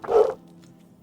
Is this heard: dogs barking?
yes